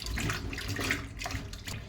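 Fish tamarind being washed by hand in a bowl of water, a brief, close splashing and sloshing of water lasting a couple of seconds.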